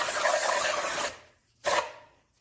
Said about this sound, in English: we're just going to use some shop towels to clean the surface